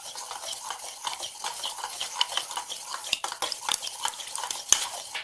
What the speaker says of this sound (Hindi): अब इसको जो है अच्छे से मैंने हिला दिया।